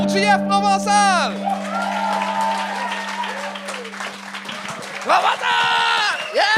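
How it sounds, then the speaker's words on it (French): A studio audience on a TV game show claps and cheers for the comedian JF Provençal. The applause is loud and sustained, with shouted voices and sung tones rising over it. "un tonnerre d'applaudissements pour JF Provençal"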